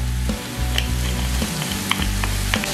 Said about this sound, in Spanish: Para ir armando el moro, voy a preparar un buen refrito.